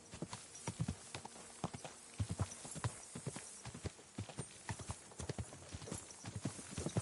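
Horse hooves in Kingdom Come: Deliverance 2 clip-clop in a brisk, continuous rhythm of sharp strikes, close and distinct against a quiet background, with no voices.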